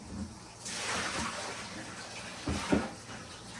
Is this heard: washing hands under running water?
yes